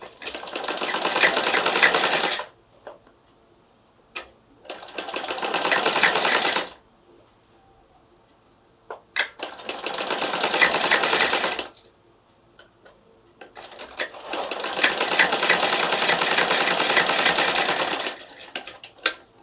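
A sewing machine stitching bias binding strip onto fabric runs in four loud bursts of rapid, steady stitching, separated by short quiet pauses with faint clicks and handling noises.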